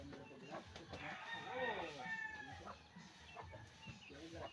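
A chicken clucks and crows at a quiet distance, its wavering calls mixed with people talking and laughing nearby.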